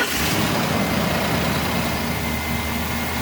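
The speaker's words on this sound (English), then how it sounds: "you heard that rattle there when it first started up" A Ford Expedition engine just after starting, with a timing chain rattle from bled-down tensioners; a dense, steady mechanical drone with a low rumble and metallic chatter, close and continuous with no pauses.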